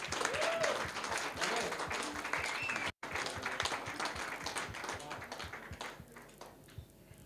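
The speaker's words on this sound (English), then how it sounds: "So big applause." Audience applause at a Davos 2022 awards event, a continuous patter of clapping hands that holds steady and then gradually tapers off.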